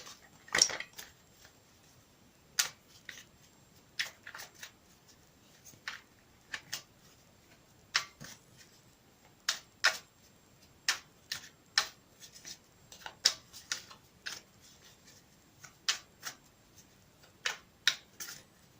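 A Radiant Rider-Waite tarot deck being shuffled by hand, a long series of crisp, close card riffles and taps in irregular bursts with quiet gaps between them.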